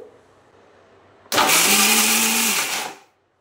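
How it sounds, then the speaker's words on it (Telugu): A mixer grinder blending muskmelon juice with milk starts abruptly after a quiet moment, whirring loudly and steadily for about two seconds with a rising motor whine before stopping. "ఇప్పుడు వాటన్నిటి మిక్సీలో వేసాక ఒకసారి గ్రైండ్ చేస్తాను"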